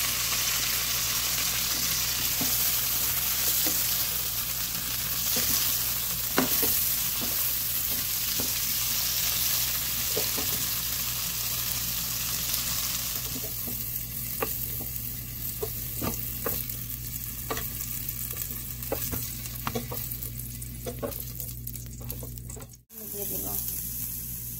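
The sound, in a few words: eggplant pieces frying and being stirred in a pan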